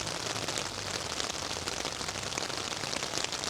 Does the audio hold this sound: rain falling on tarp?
yes